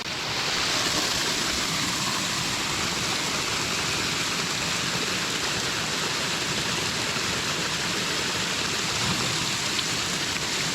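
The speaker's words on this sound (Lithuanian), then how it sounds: "Čia per daug taškos." Cold water from an outdoor source splashes constantly while someone washes, a dense, even hiss and patter that stays loud and unbroken throughout.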